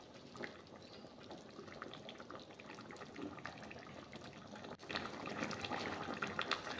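Sorputi fish curry with four green chillies and fried fish pieces simmering in a pan, a steady bubbling, watery texture with faint clinks, growing slightly louder and busier toward the end.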